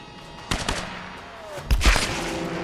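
Single gunshots in Tomb Raider's geothermal caverns, a few sharp separate cracks around the half-second mark, then a louder, heavier pair of shots near the two-second point over a low ambient hum.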